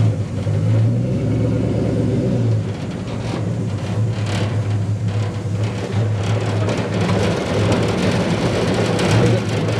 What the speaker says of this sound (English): we'll just do one lap through the bush here